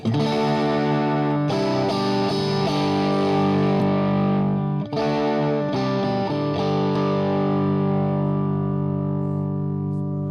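A sustained, thick distorted electric guitar chord rings out loudly through an early-1970s Color Sound Power Boost pedal, restruck several times with a boosted, saturated tone and no talking.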